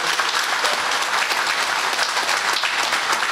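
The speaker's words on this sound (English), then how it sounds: "Michelle, a round of applause again for him," A dense, steady round of applause from an audience in Trinidad and Tobago thanks a speaker at a public education event on the Caribbean Court of Justice and the Privy Council, loud and continuous with no break.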